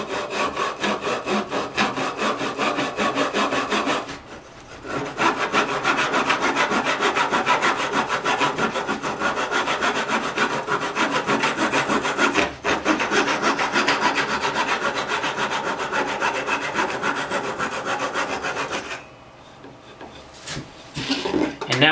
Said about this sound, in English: And then I can go ahead and take a saw.